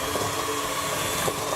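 An electric mixer runs on low speed through pumpkin bread batter, a steady whirring motor drone that holds constant and close throughout, with no voices.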